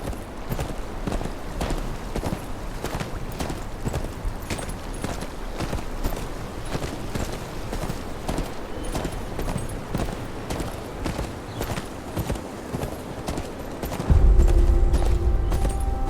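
Horse hooves clip-clop in the video game Game of Thrones: Kingsroad, with a steady, even walking rhythm that repeats throughout. A heavier low rumble comes in near the end.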